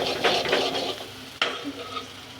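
Eggs sizzle and fry in a pan for a curry while being stirred continuously, with scraping strokes and a sharper clack partway through, steady and close with no talking.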